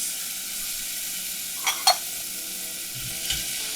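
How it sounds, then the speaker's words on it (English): Frozen asparagus sautéing in a pan gives a steady close sizzle throughout, broken by a couple of brief scraping stirs and a soft utensil clunk near the end. "So we're gonna let this saute for just a couple minutes, just to basically defrost it and start cooking it."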